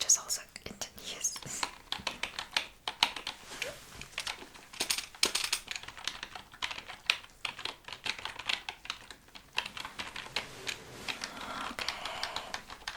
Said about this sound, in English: this monotonous sound of keyboard typing, it makes me sleepy all the time